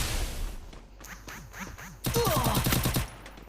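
Free Fire battle gunfire: a few spaced shots with whooshing effects, then a dense, loud burst of rapid automatic fire at close range that stops abruptly near the end, with no talk.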